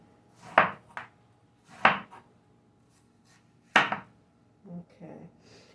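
A knife cuts through canned pink salmon on a board in three sharp, close chops with pauses between, followed by a couple of softer taps.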